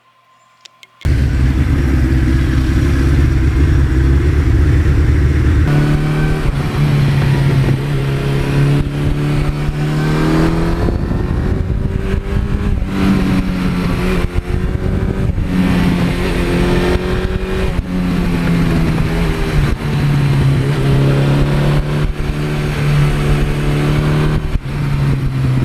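A 1982 Suzuki GS1100E motorcycle starts up loud and close, then rides off with repeated revs rising and falling through the gears, a steady engine roar running throughout with no talking.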